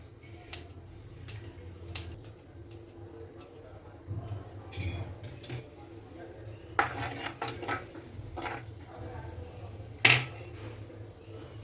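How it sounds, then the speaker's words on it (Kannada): Green chili is chopped fine with a knife on a board, giving irregular light taps and clicks of varying loudness with a few louder knocks. "ನೆಕ್ಸ್ಟು ಗ್ರೀನ್ ಚಿಲ್ಲಿ ತಗೊಂಡಿದ್ದೀನಿ. ಈ ಥರ ತುಂಬ ಚಿಕ್ಕದಾಗಿ ಕಟ್ ಮಾಡ್ಕೋಬೇಕು."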